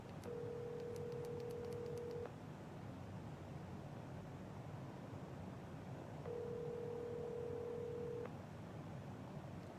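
Telephone dialing: two long steady tones, each about two seconds, separated by a gap, with a quick burst of keypad beeps at the start, faint over a constant background hiss.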